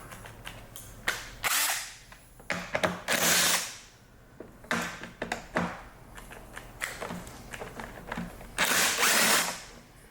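A cordless battery drill or driver runs in several short bursts with pauses between, close by, while disassembling a STIHL BR 800 backpack blower and its air cleaner cover; no voices.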